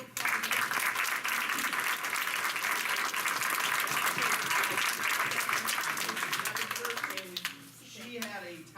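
A crowd gives a round of applause for singers after a performance, sustained clapping at a strong even level for several seconds before tapering off, with a voice starting to speak as it fades.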